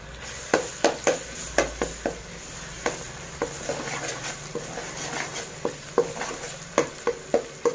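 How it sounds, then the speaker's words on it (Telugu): Ginger garlic paste and green chillies fry in a pan for egg fried rice, a spatula scraping and clacking against the pan in steady, close strokes over a soft continuous sizzle. "ఇప్పుడు అల్లం వెల్లుల్లి పేస్ట్ వేస్తున్నానండి"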